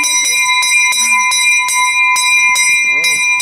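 A bell strikes in a steady rhythm, about seven clear ringing chimes with sustained tones, while voices speak briefly underneath.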